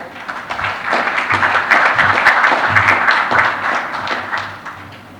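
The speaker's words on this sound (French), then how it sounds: "monsieur Mamadou Ndiaye, sous vos applaudissements, s'il vous plaît." An audience at the opening ceremony of the African Conference on Debt and Development applauds the Senegalese finance minister, steady loud clapping that swells, holds for a few seconds and fades.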